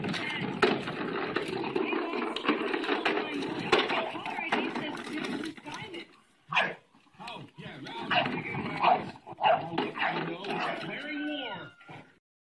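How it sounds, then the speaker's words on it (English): A dog at play with a toy truck gives short yips and barks in scattered bursts, close and fairly loud, mixed with scraping and rattling play noise; people talk through much of it. "Nothing better than a dog and a toy truck."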